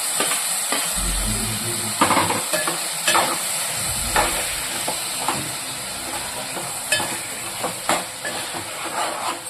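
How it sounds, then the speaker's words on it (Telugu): Tomatoes drop into a hot pan for a brinjal (vankaya) curry and sizzle with a steady hiss, broken by repeated scraping stirs and clinks of a utensil against the pan. "ఇది కొంచెం టమాటాలు వేసేసుకుంటున్నాను."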